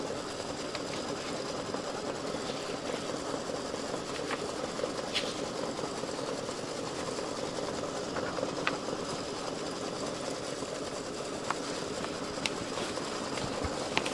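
An embroidery machine stitches lettering onto an in-the-hoop Christmas gift tag, a steady, fast mechanical whir with a dense needle rhythm running throughout, moderately close with occasional faint ticks on top.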